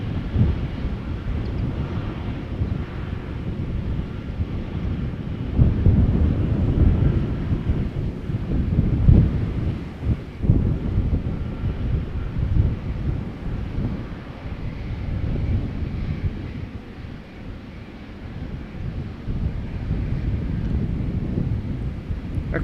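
An Air Canada A330-300 jet departs Amsterdam Schiphol with a deep, rumbling engine roar that swells and fades over about twenty seconds, heavy wind buffeting the microphone.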